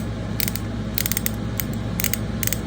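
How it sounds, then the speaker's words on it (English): A restored Yankee ratcheting screwdriver, marked USA on the handle, gives quick runs of sharp metallic ratchet clicks in several short bursts, close and clear over a steady low hum. "This is the ratcheting screwdriver."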